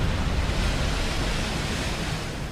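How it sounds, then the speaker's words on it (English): Giant ocean waves break in heavy surf, a loud continuous roar of churning water with wind noise and no clear individual crashes. "It feels and sounds like an avalanche when the waves break."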